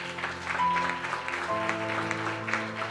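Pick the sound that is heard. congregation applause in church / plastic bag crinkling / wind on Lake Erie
congregation applause in church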